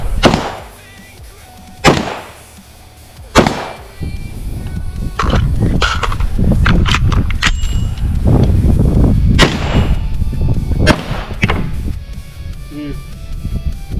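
Gunfire at an outdoor shooting range with 5.56, 9mm and .45 ACP firearms: three sharp, loud shots spaced apart, then a denser string of reports over a continuous roar.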